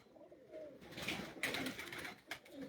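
Pigeons coo softly from a rooftop loft, several low throaty calls overlapping with light wing flutters and rustling, fairly close but faint, without talk.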